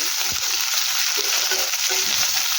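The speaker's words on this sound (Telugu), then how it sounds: "బాగా ఫ్రై అవుతాయి" Sliced onions and long-cut capsicum fry in a hot pan with a steady, dense sizzle throughout, close and fairly loud, with faint stirring scrapes underneath and no talking.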